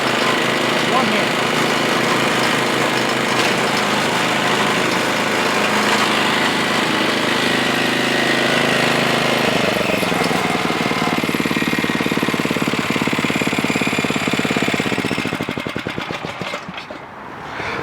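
An Ariens 11528 snow blower with power steering runs steadily and loudly up close, its engine a constant, slightly knocking drone that holds for most of the stretch before easing off near the end.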